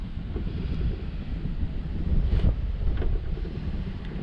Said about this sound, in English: The wind's blowing out here